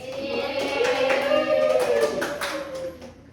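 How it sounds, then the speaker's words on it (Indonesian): Brief round of clapping from a small class applauding a student in a microteaching lesson, moderately loud, with a voice sounding over it before it fades out. "tepuk tangan untuk Mbak Indri"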